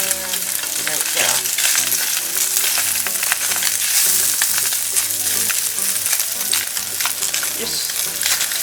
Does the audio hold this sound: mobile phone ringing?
no